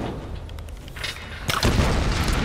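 Two booming explosions in the Tomb Raider video game, a duller blast early and a louder, sharper one near the end, rumbling close and heavy with no talk over them.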